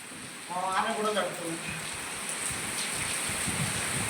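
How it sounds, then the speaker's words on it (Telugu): Heavy rain pours down in a dense, steady roar that swells in after a short quiet start. A voice speaks briefly near the beginning. "వాన దంచుతుంది"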